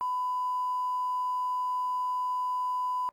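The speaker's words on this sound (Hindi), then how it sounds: "प्रोग्राम में आपको बीप लगाना पड़ेगा, आप लगा लीजिएगा बीप।" A censor beep covers speech in a TV program, a single pure electronic tone held steady for about three seconds before cutting off, with faint voice traces beneath it.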